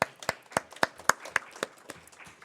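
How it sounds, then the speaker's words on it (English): Sparse clapping at a meeting honoring a colleague, about a dozen distinct hand claps in a loose, uneven rhythm, fairly quiet, with no talk over them. "I'm going to give you an applause."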